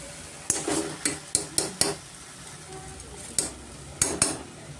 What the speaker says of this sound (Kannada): ಇವಾಗ ನಾನು ಅಕ್ಕಿ ಸೇರಿಸ್ತಾ ಇದ್ದೀನಿ